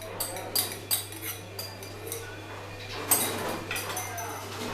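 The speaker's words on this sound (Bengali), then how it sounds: "দিয়ে ঢাকনাটা আমি বন্ধ করে দিলাম।" A lid closes on an oiled tiffin carrier with a few light metallic clinks and taps in a quiet kitchen, over a faint steady low hum.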